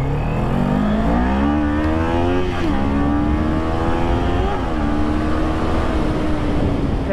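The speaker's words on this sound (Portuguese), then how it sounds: "Arrancada da moto, ó." A motorcycle pulling away hard from a standstill, its loud engine note climbing through rising revs with brief dips at gear shifts, close and dominant throughout.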